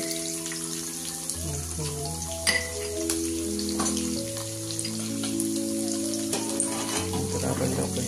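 Garlic paste sizzling in a hot pan, a steady crackling hiss that continues throughout under background music, with no speech.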